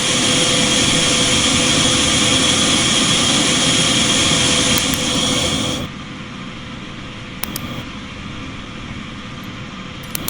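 A DC-9 jet airliner in Microsoft Flight Simulator 2020 produces a loud, dense engine roar that holds steady for about six seconds. The roar then drops abruptly to a quieter, lower rumble, with a few faint clicks near the end.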